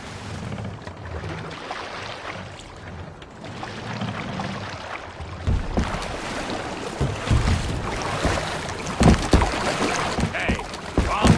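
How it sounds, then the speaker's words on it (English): Oars pulling a Viking longship through water in Assassin's Creed, a steady wash of splashing and creaking with wind, growing louder and more rhythmic toward the end, no talk over it. "We must row in these waters."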